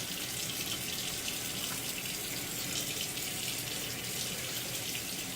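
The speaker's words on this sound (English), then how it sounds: "Rinse off and do a little more lather." A tap runs steadily to rinse a razor, a constant close wash of water with no breaks, fairly quiet and alone.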